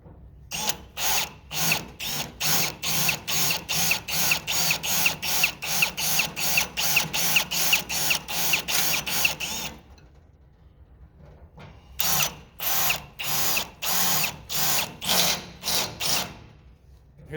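Power drill boring pilot holes through rusty metal, a rapid train of sharp grinding bursts running steadily for several seconds, a brief pause, then more bursts, loud and close with no talk.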